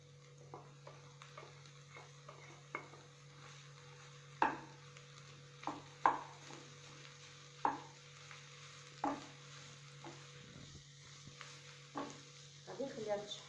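Minced meat kofta frying with golden onions in a pan, a soft steady sizzle under repeated sharp scrapes and stirring knocks spaced every second or two, fairly close, with no talk.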